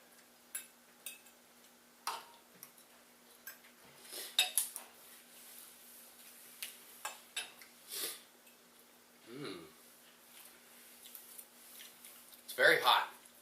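Metal utensil clinking and scraping against a plate while mixing huevos rancheros with runny egg yolk, in scattered light taps and scrapes with a few louder knocks, quiet and close.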